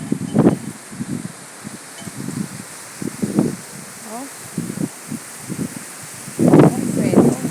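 Strong wind gusts through plants and stirs up dust, a broad rushing noise that swells and eases, with someone speaking Portuguese over it.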